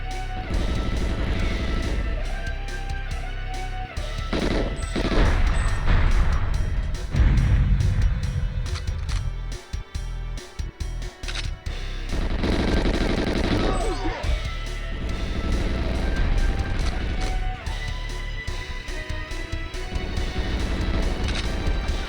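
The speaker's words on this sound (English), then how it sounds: "I really need to be careful for these exploding boxes." Explosions from exploding boxes mixed with rapid gunfire in the video game GoldenEye, loud and dense throughout with repeated bursts and crashes over a steady game soundtrack.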